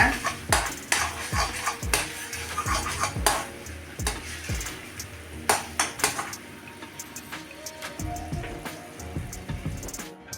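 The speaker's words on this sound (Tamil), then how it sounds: "இதை நல்லா மிக்ஸ் பண்ணி விட்டு ஸ்டவ்வை ஆஃப் பண்ணிடுங்க" A spoon stirs pumpkin halwa with ghee and cashews in a pan, producing repeated metallic scrapes and clinks at a steady rhythm, close and clear with no talking.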